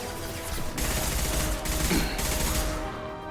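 Rapid bursts of automatic gunfire in Mass Effect 2 Legendary Edition crackle in quick succession, close and dense, across about three seconds of combat.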